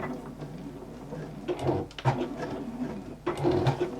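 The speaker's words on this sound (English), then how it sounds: "I'm just going to do a couple of little back stitches just to secure this" A sewing machine running short back stitches to secure a seam, brief bursts of mechanical whirring that start and stop several times at close range, with no talk.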